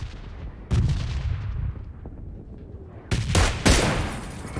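Heavy gunfire in PUBG Lite, including an M24 sniper rifle, bursts out in loud booming shots, one around the first second and a cluster of powerful blasts near the end over a rumbling battlefield backdrop.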